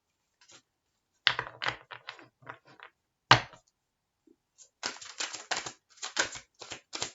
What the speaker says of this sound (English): I just thought I would shuffle the cards and see what comes out for Gemini